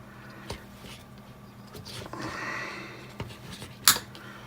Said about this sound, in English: So we just get some side cutters and we'll cut off the